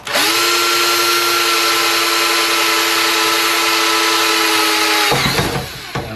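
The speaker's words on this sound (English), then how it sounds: "we got the drill ready, and because this is aluminum, this should be very easy to drill" A power drill with a stepped bit bores through aluminum, a loud steady whine with tonal harmonics holding for about five seconds before stopping abruptly, followed by a brief clatter.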